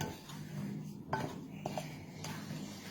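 Dry bath bomb ingredients mixed in a bowl, soft scraping and a few light clinks of a utensil against the bowl, close and fairly quiet.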